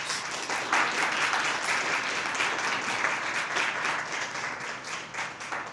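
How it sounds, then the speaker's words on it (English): Steady applause from a crowd goes on throughout, a dense wash of many hands clapping that stays at an even level. "So give us a round of applause."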